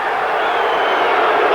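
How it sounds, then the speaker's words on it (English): A large arena crowd at a heavyweight boxing match between Evander Holyfield and Riddick Bowe roars steadily after the bell, a broad sustained wash of voices without any breaks. "I don't know why the crowd are jeering on that."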